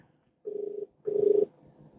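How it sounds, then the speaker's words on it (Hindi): A telephone rings twice in two steady electronic bursts with a short pause between, then low background noise remains. "कई सारे फोन आ रहे हैं"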